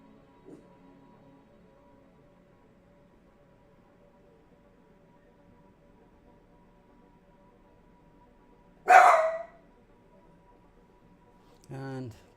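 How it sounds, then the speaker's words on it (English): A dog goes ballistic indoors at people making noise outside: one sharp, loud bark stands out against a quiet room hum, followed a few seconds later by a shorter, softer bark. "people are making noise outside, so the dog's going ballistic"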